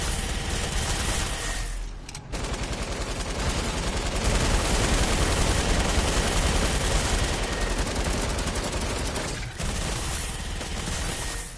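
Dense, sustained automatic gunfire from the Fortnite video game, loud and nearly continuous with only two brief pauses, with a zombie fight underway.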